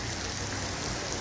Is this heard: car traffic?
no